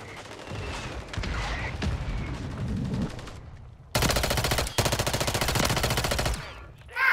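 Rapid automatic gunfire in Call of Duty, starting with scattered shots and then breaking into long, loud continuous bursts that dominate the second half.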